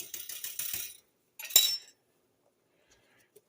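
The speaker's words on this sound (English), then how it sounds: "Okay, let me mix the meat up here." Metal utensil scraping and clinking against a pan while ground hamburger meat is mixed, a few close, sharp bursts of rattling separated by near silence.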